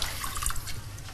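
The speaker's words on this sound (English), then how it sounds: "Why don't you pour yourself a drink?" A drink is poured, a short close liquid splash and trickle lasting about a second, heard with no talk over it.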